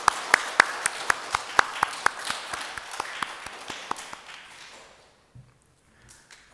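A church congregation at a Sunday service gives a short, sparse round of clapping to welcome visiting members, individual claps ringing out distinctly before trailing off into quiet.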